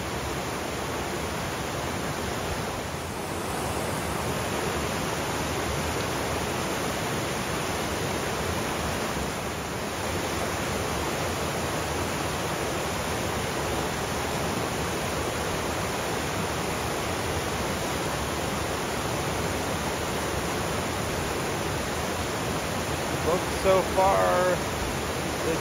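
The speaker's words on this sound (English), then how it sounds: "That waterfall is way taller than it looks in this camera." Tall waterfall on a mountain trail during rain, a constant broadband roar of falling water that fills the scene evenly, with faint voices underneath.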